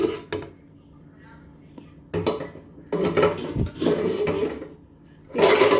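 Metal pressure cooker lid and pot of mutton biryani clatter and scrape in a few separate bursts, with quiet gaps between them and a louder clank near the end.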